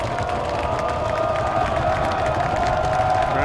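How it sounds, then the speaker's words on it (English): A college football crowd at an RPI game against Montclair State cheers steadily and loudly for the home defense, a continuous wash of voices and whoops filling the stands. "Crowd's getting behind the RPI defense."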